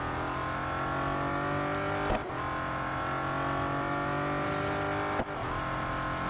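A Bugatti Centodieci racing car engine in Real Racing 3 holds a steady high-pitched roar at speed, with two brief gear-shift dips breaking the sustained tone, loud and close with no talk.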